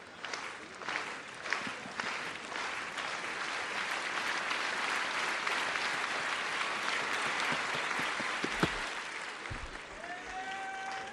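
A stadium crowd claps steadily and warmly for a decathlete in the long jump at an athletics session, a broad sustained wash of applause with scattered louder claps and faint cheering.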